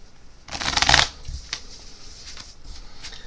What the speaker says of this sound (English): start this trick as most of the best card tricks start by asking you to shuffle the cards